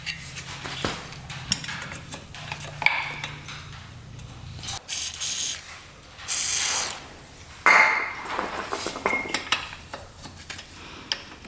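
Ratchet wrench loosening bolts on the carburetor of a rare motorcycle, giving rapid clicking pawl bursts between metallic clinks and tool handling, close and fairly quiet, with no talking.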